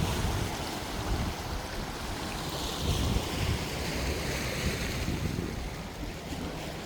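Steady wind blowing by the sea, with waves washing in the background over a small-stone shore and gusts buffeting the microphone.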